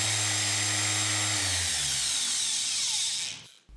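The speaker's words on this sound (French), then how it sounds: "On voit le même mouvement de ponçage qu'avec la ponceuse précédente." A Festool orbital sander whines loudly and steadily with a high buzzing tone, then its pitch drops as it spins down and stops near the end.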